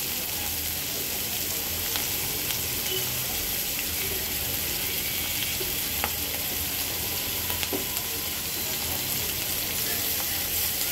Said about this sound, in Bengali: এখন পেঁয়াজটাকে সুন্দর করে ভেজে নেব